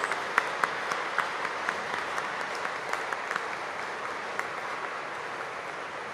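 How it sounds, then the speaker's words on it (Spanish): A church congregation at a patronal feast celebration gives a strong round of applause, sustained clapping with a few sharper individual claps standing out, heard alone. "Vamos a ofrecerle a Dios un fuerte aplauso"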